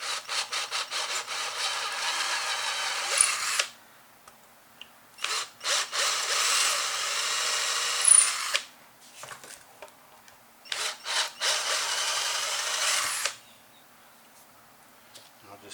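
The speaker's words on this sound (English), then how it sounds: "drill out these." A power drill bores out filled holes in the body of a 1980s Tokai SJ504 Japanese guitar. There are three long, loud, grinding runs of several seconds each, broken by short pauses with brief bursts and handling noise.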